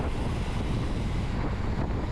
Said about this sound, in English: So down here on the back stretch is a ton of crosswind.